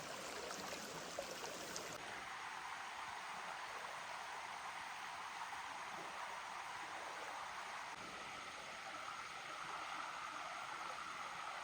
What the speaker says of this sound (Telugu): చక్కగా వాటర్ సౌండ్ ఎంత బాగా వినిపిస్తున్నాయి